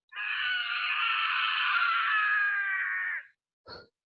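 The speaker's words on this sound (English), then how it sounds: "I downloaded a screaming button that I can use for my kids when they're fighting." A soundboard button plays a screaming sound effect: one loud, continuous human scream lasting about three seconds, then a short burst of noise after a brief gap, with no talk over it.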